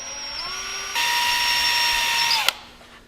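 An electric drill twists a wire clamped in a vise, a steady high whine that steps up sharply in pitch and loudness partway through, then a sudden click as it stops, leaving a fading hum.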